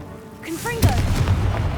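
Confringo fire spell detonating in Hogwarts Legacy: a sharp, loud explosive blast lands mid-way, then a rumbling tail decays beneath it, preceded by a brief spoken voice.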